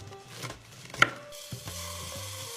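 A knife chops through fried chicken nuggets on a board, cutting them into three pieces, with a few crisp cutting knocks, one sharp and prominent, amid quiet kitchen sounds.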